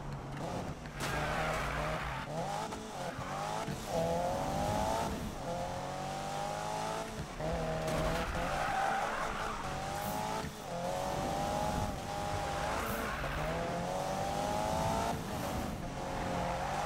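Car drifting in the Need for Speed video game, with long, continuous tire squeals sliding up and down in pitch over a steady engine roar, loud and sustained throughout, no voices.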